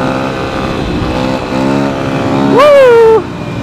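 A motorcycle engine revs loudly during a standing wheelie, holding a steady droning note before one sharp rising rev near the end, close and dominant with no speech.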